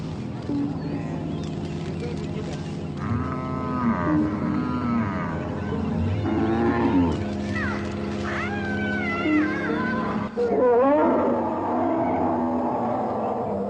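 Cattle low and call at a Mundari cattle camp beside the Nile, several cries rising over steady ambient noise and narration, mixed with other animal sounds.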